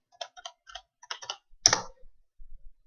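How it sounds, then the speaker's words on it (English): Keys clack on a computer keyboard in short bursts of quick taps, followed by one heavier, louder keystroke like the Enter key, close and isolated in an otherwise silent room. "Now type your new password. Again, type it"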